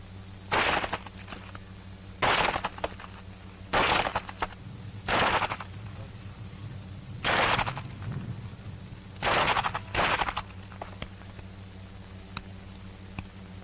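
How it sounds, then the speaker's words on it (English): Pistol shots in a close combat firing drill, six sharp loud reports in irregular pairs and singles across the stretch, with quiet low hum between them. "That is the way you use your pistol in battle firing."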